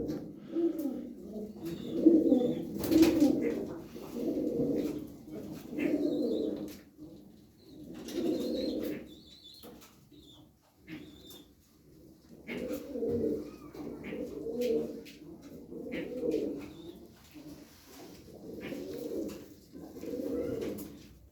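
Pigeons coo softly and repeatedly in a coop, low rolling calls in clusters with brief pauses and occasional wing flutters, close and moderately loud.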